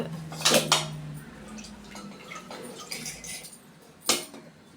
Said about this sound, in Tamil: இன்னொரு வாட்டி தண்ணியில் நல்லா அலசிக்கலாம்